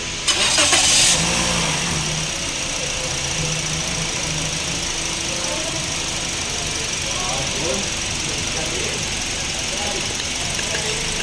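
Toyota Vios engine fitted with a replacement ignition coil, starting with a brief burst and then settling into a steady, close idle that continues throughout while people talk over it.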